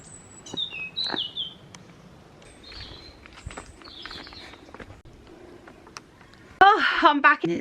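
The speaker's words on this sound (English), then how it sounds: "And the birds singing." Birds chirp and tweet near the seashore at South Bay, Brixham, with scattered short calls at moderate distance, footsteps and a louder burst of birdsong toward the end, and a voice speaking faintly in places.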